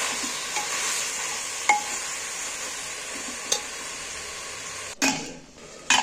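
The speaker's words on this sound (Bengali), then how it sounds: "এই মাংসটাই সেইভাবে খালি কষতে থাকবে, নাড়তে থাকবে" Chicken fries in a pan as it is repeatedly stirred and pressed. A steady sizzle carries on underneath, with occasional scrapes, and loud spatula knocks and clatter come near the end; no one speaks.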